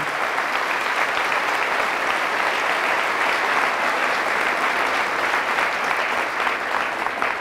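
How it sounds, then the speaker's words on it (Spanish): A church congregation applauds Jesus of Nazareth, with sustained, dense clapping filling the space evenly and steadily from start to finish, with no voices standing out. "Fuertes aplausos a Jesús de Nazaret."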